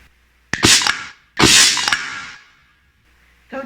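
Two sharp, loud blasts about a second apart, each bursting bright and decaying into a brief rumble, followed by a third onset cut short at the end.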